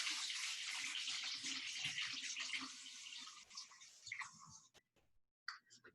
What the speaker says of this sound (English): So I'm just going to wash my hands.